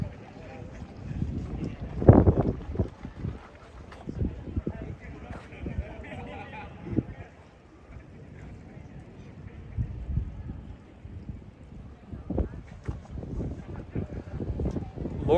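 Wind buffets a microphone along the Copenhagen waterfront, producing irregular low rumbling gusts and thumps that come and go under a person talking throughout.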